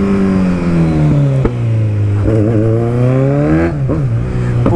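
A Kawasaki Z1000 motorcycle engine revs loudly up close, its pitch rising and falling through several downshifts, with sharp blips between gears and a constant strong drone throughout.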